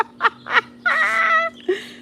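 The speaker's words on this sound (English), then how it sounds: "Sounds like mating season. Oh, the birds." Fowl calling loudly with harmonic, gobbling turkey-like cries, several short bursts and one longer drawn-out call, close by with a steady low hum underneath.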